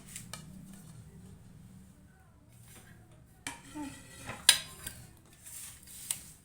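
Badusha sweets being set onto a plate, a few soft clinks and taps of pieces and utensils against the dish, sparse and close, with quiet room noise between.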